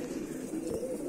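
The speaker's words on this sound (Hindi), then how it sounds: "ये गोल्डन कबूतर है रामपुरी, बहुत उम्दा" Soft cooing of a golden Rampuri pigeon, a low continuous murmur that stays faint and steady throughout, with no voices over it.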